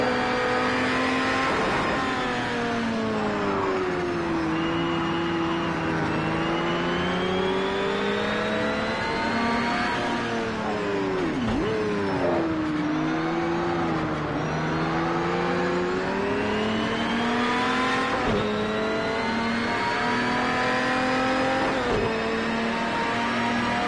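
Diablo GTR race car in Project Cars 2 revving hard through tight corners, engine pitch climbing and dropping repeatedly as it shifts between second and third gear, loud and continuous with no talk.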